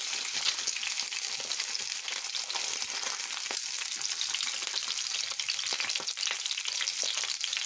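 An egg fries in hot oil in a pan, a steady bright sizzle and crackle with scattered pops running throughout, close and uninterrupted.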